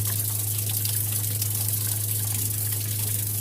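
Steady rushing of water draining overboard from a 2020 Robalo R180 boat's live well, a constant gushing flow with a low hum underneath.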